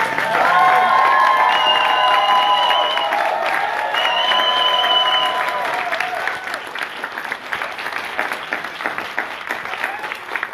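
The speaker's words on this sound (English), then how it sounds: "Please give them one more round of applause" A graduation ceremony crowd claps for the graduates in sustained loud applause, with some cheering and tones at the start fading into steady clapping.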